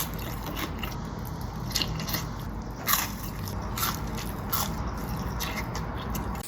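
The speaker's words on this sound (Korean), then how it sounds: "맛을 보면 바삭한 해시브라운과 풍미 넘치는 패티들" Teeth bite into a tall burger stacked with crispy hash browns, pork and beef patties and homemade sauce, giving several close, moist crunches and squishes in a quiet room.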